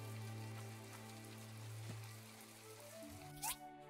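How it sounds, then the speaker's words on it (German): In My Time at Portia, rain patters softly and continuously beneath quiet game music, with a brief brighter splash or click near the end and no one speaking. "Krass, es kann sogar regnen."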